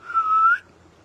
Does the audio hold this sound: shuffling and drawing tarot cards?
no